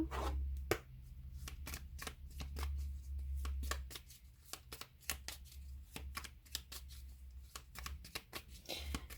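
Tarot cards are shuffled and drawn by hand in a quiet room, producing rapid, close flicking and riffling taps in a steady patter with a low hum beneath, and no talk.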